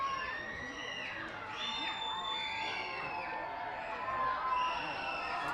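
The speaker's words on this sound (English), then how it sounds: "And the crowd is roaring here at First Energy Stadium." A baseball stadium crowd at First Energy Stadium in Reading cheers and roars steadily through a minor league game, a dense wash of voices with scattered whoops, holding a constant moderate level with no clear break.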